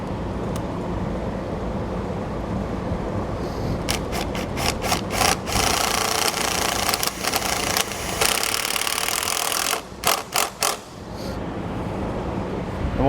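A self-tapping screw is power-driven into a vehicle during a trailer wiring and hitch install: a loud, sustained motor whir with short stuttering bursts near the end.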